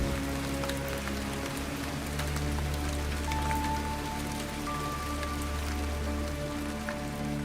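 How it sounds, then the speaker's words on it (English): Heavy rain pours steadily onto an archaeological dig site at Dinmore Hill in Herefordshire, a dense, even hiss of drops with a low rumble underneath and no voices. "the rain's going to get even worse."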